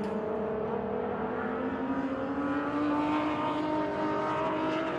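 A Porsche 988 race car pulls into the pits during a 24-hour endurance race at Daytona, its engine note a steady, moderately distant drone without voices.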